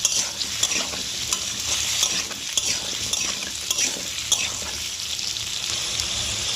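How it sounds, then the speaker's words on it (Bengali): Cut potatoes fry with onions in a pan, giving a constant close, hissing sizzle with scattered metallic scrapes and taps of a spoon stirring throughout. "ভালো করে আলুটা পেঁয়াজের সাথে ভেজে নিতে হবে"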